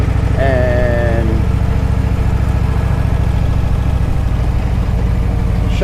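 Motorcycle engines idle and rumble steadily at close range during a morning group ride, a low throbbing drone with a brief rising rev early on and constant wind and road noise throughout.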